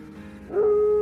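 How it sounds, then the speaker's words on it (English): A single rising, sustained tonal howl of a wolf in the distance, lasting about half a second and ending abruptly, over a quiet low background. "of wolves howling"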